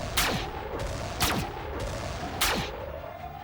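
Gunfire in the video game Xenonauts 2 as a probe is shot: three sharp, evenly spaced shots, each with a quick descending whine, over a low steady hum.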